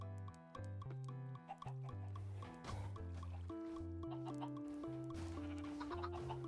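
Chickens cluck in Minecraft, short clucks scattered over a loud, steady melodic music track that dominates throughout.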